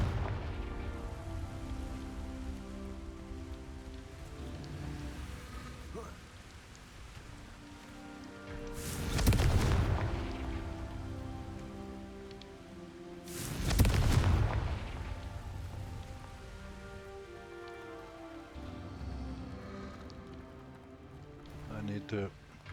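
In Hogwarts Legacy, two Confringo fire spells burst with broad, roaring blasts several seconds apart over soft rain-like ambience, and someone talks quietly between them.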